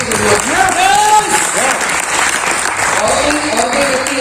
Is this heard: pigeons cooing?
no